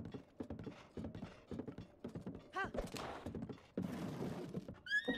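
Horse hooves clip-clop in Zelda: Breath of the Wild, irregular steps mixed with other game sounds and a brief whinny-like call, with a voice talking over parts of it.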